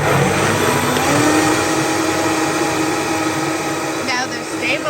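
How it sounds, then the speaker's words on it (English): A US-version Vitamix blender's motor runs loud and steady close by, a dense continuous whir with a slight pitch shift partway through, and a brief voice near the end. "If you don't have a stabilizer and a step down for this US version of the Vitamix, you will find that the motor is lagging"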